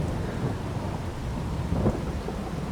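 Steady rain with rolling thunder from a thunderstorm in the video game Western Wilds, a continuous dense wash with a low rumble swelling near the end.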